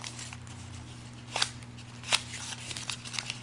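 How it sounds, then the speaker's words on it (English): Origami paper flap folded and creased by hand, two sharp crisp crinkles standing out over soft rustling and a low steady hum, close and quiet, no talk. "So fold that in and then crease it."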